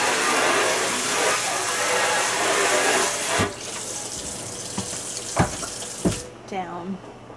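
Water runs steadily from a sink tap through a can strainer, a loud continuous rush for about three seconds, then quieter splashing with a few knocks and clatters as the strainer is handled in the sink.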